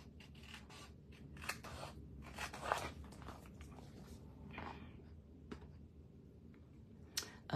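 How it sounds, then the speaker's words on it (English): Scissors trim around a Christmas card with close, quiet snips and crisp paper cuts in an irregular rhythm, punctuated by a few sharper clicks of the blades. "Just go ahead and trim around here real quick."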